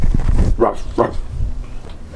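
A dog gives two or three short, close barks amid some movement noise at home, with a faint voice in the background.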